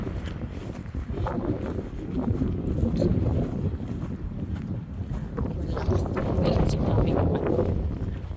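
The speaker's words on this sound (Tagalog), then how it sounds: "ang hangin dito eh" Strong wind buffets the microphone with a constant rumbling roar in a park in Alberta, Canada, gusting louder at moments, while faint voices are heard underneath.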